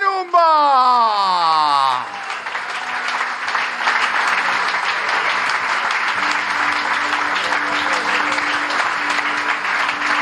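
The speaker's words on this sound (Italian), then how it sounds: "calorosissimo applauso" Loud, sustained applause from an audience at a basketball team's 2023-2024 season presentation, following an announcer's rising voice and continuing steadily, with a low musical tone entering partway through.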